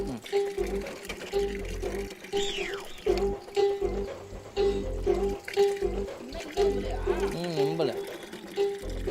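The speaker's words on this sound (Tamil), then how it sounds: "நீ அந்த குடத்துல தண்ணி பிடி." Water runs steadily into a water pot (kudam) beneath ongoing conversation, with clatter and handling noises mixed in.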